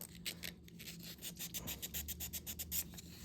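Rust is rubbed off a metal part with quick, repeated close scratchy strokes in an even rhythm, faint and alone.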